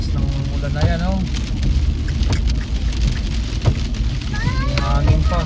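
A downpour hammers the streets of downtown Calgary with a thick, constant roar of large drops splattering nearby, while people talk over the noise.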